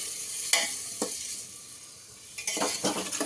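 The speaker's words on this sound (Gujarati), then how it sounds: "આપણે ગ્રેવી હલાવી લઈએ।" Spoon scraping and clinking against a pot as gravy is stirred, with a few sharp metallic taps and a soft sizzle underneath.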